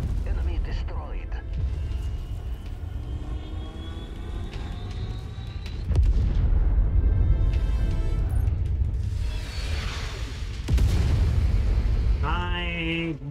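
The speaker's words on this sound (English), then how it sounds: "All artillery, open fire." Artillery barrage in MechWarrior 5, heavy booms and rumbling blasts rolling across a dense battlefield din, with two louder surges of explosions, loud and close, under brief radio-style voice chatter.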